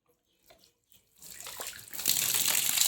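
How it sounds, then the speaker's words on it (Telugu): Water from a panchayat supply pipe starts flowing into a tank after a valve is opened: a few faint clicks, then a rising gush that builds into a loud, steady splashing stream, close by, no talking. "అదిగోండి వాటర్ అన్నది అలా రావడం అన్నది జరుగుతుంది."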